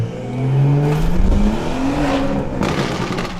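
A BMW accelerates hard on a launch-control start, its engine note climbing steadily in pitch, loud and close, with a brief tire squeal, a rough exhaust burble, and sharp crackles toward the end.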